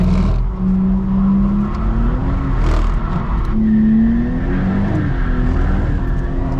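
A Nissan Skyline R34 GT-T automatic with a viscous limited-slip differential revs hard, its engine note rising and falling in steady waves close by and loud throughout, with tire noise beneath but no distinct squeal standing out.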